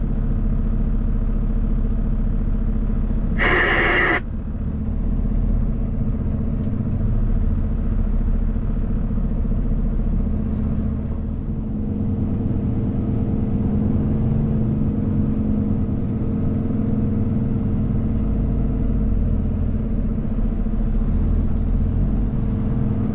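A low, steady engine rumble and road hum surround a truck crawling through bumper-to-bumper traffic, with a brief hiss-like burst early on and faint passing vehicle sounds, nearly continuous and moderately loud.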